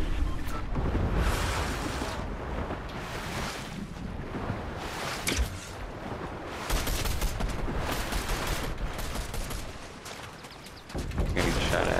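Gunfire rattles through a Fortnite battle in dense, overlapping bursts against a busy roar of game ambience, the shots loud and near with short lulls between volleys.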